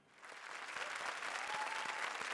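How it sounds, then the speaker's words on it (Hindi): A television comedy show's studio audience breaks into applause, the clapping swelling quickly from quiet to a dense, steady roar of many hands. "तालियां।"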